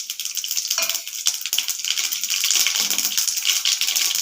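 Dense crackling and popping of mustard seeds, urad dal and cumin frying in hot oil, loud and continuous, with light rattling.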